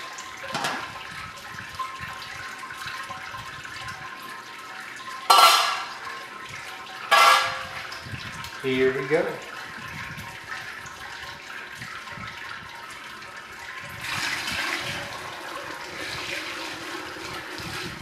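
Water poured from a container into a homebrewing pot on a Grainfather system to reach full boil volume, arriving in a few separate pouring bursts with a splash and glug, between quieter stretches; someone speaks briefly.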